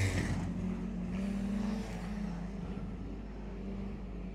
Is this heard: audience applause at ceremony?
no